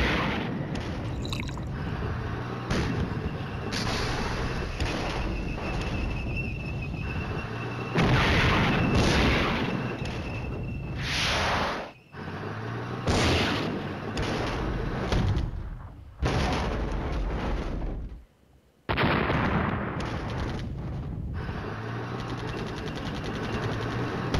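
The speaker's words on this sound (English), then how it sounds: "She's firing smoke over there." A gun fires smoke rounds in a battle setting, with repeated heavy booms and rumbling bursts over a dense, continuous roar, broken by a few brief drops in level.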